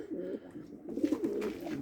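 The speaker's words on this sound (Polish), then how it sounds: "Tu mamy e, z tych belgijskich i niemieckich gołąbków." Belgian and German racing pigeons, sprinter types, give soft rolling coos close by in a loft, a few overlapping low murmuring calls in quick succession with no talking.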